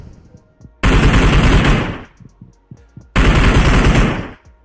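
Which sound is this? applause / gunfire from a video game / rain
gunfire from a video game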